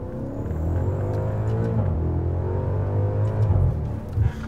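A Maserati Quattroporte GTS engine revs during a downshift, its steady, close, low droning note dipping and then climbing again over a few seconds with no one speaking.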